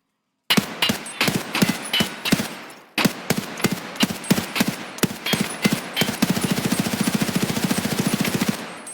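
Rapid automatic gunfire from an HK assault rifle chambered in 5.56 in Escape From Tarkov, loud close bursts of shots followed by a long sustained stream of fire.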